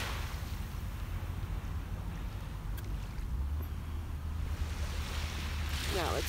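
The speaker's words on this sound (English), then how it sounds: "Got beautiful, calm beach here this morning." Gentle waves on a calm beach in the morning, a steady low wash of surf with wind rumble against the microphone, continuous and fairly loud throughout.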